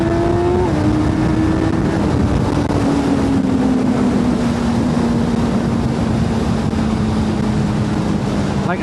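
A Honda CB1000 Hornet SP motorcycle accelerates hard out of a corner in second gear, its engine note holding steady and loud against constant wind rush for the whole stretch, with no talk.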